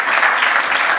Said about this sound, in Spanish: lo que queremos es un fuerte aplauso acá para el grupo